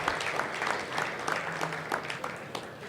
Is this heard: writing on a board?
no